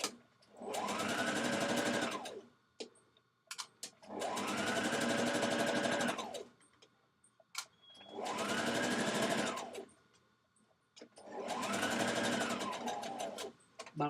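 A sewing machine back stitching along a dress pocket seam runs in four steady bursts of about two seconds each, with short pauses between them, close and clear with no talking.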